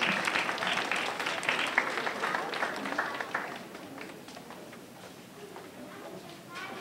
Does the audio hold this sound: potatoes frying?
no